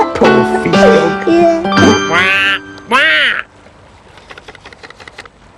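In a children's puppet program, a duck character quacks in a run of loud, close, wobbling calls mixed with brief voices, then quiet follows with faint clicks.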